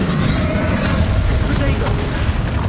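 A heavy booming blast from the Bombardo explosion spell in the video game Hogwarts Legacy, a loud sustained rumble filling the whole moment with dense crackling debris and voices in the mix.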